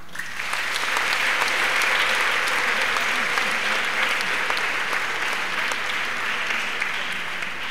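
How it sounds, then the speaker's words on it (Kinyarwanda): Sustained congregational applause from a Catholic church gathering celebrating priests on Holy Thursday, dense steady clapping that swells in and holds evenly throughout, with no talk over it. "mwongere mubampera amashyi."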